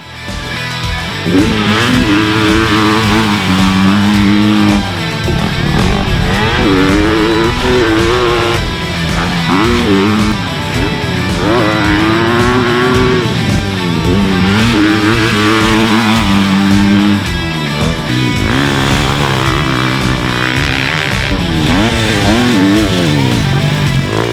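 A 2021 Honda CRF250 motocross bike engine revs and pulls through its powerband, loud and close, with rising and falling pitch sweeps over about 24 seconds and no talk.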